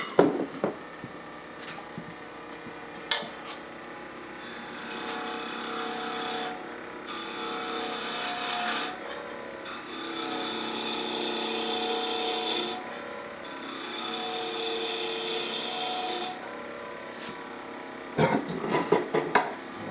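A roughing gouge cuts into a spinning wood blank on a lathe, making long steady hissing, rasping passes broken by short pauses, with knocks and handling sounds at the start and end, close and loud without talk.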